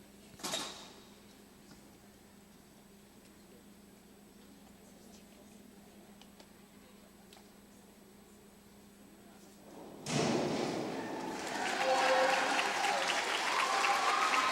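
Spectators at a high school swim meet break into applause after a dive, a burst of clapping and cheering that starts abruptly and builds, following a long quiet stretch with a single early knock.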